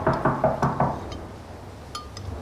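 A loud knocking on a door, several sharp raps in a quick cluster at the start, then a couple of fainter knocks and a clink later on, with no talking.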